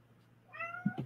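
A cat gives a single short meow with a rising, tonal cry that ends in a slightly rougher finish, heard close and alone in a quiet room.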